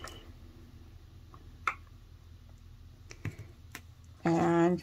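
A die cutting machine rolls card stacked between two lucite plates, a steady low mechanical hum with faint clicks and a loud grinding burst near the end as the plates pass through the rollers.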